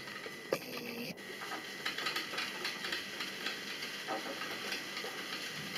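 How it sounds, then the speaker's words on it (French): An electric coffee maker brewing coffee gives a steady, soft hiss and gurgling bubble close by. A few faint clicks and taps sit on top of it throughout. "C'est le café qui se fait dans la cafetière électrique"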